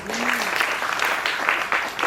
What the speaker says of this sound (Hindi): तालियों की जोर थोड़ा और जोर से हो जाए.